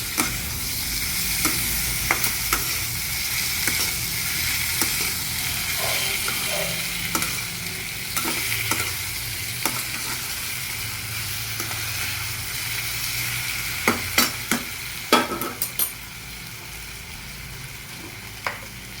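Potato slices frying in a pan for a Marathi-style potato chakatya dish, stirred with steady scraping and clinking strokes over a continuous close sizzle, with a cluster of sharper utensil knocks near the end.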